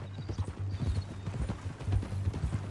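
Horse hooves clip-clop at a steady walking rhythm in the Western video game Red Dead Redemption II, close and clear over a low constant hum, with no talk.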